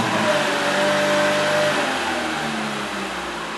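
A Chevrolet Spin's GM 1.8 engine revs hard with a deep, throaty roar, holding steady and then dropping off into a lower rumble.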